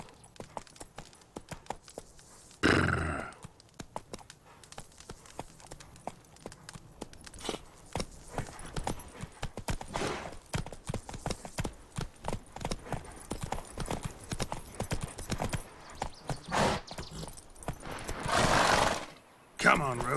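Roach the horse trotting in The Witcher 3, a steady clip-clop of hooves running through most of the stretch with a couple of loud whinnies, while a voice talks over it.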